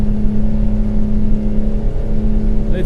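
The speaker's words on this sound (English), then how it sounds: "Let's get this thing revving" A truck's diesel engine in American Truck Simulator holds a loud, steady revving drone, close and continuous with no talking over it.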